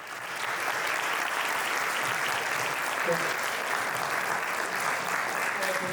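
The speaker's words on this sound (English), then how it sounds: "So please, you give our panelists a proper applause." Audience applause for a panel of speakers at a business talk on agile teams, a dense steady clapping that swells in after a brief start and holds evenly throughout.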